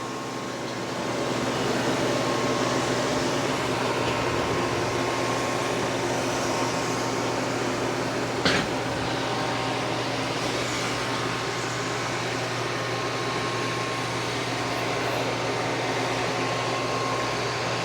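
A Roborock Saros robot mop cleans a floor strewn with mud, dirt, confetti and hair, producing a steady, close whirring hum that runs unchanged throughout without talk.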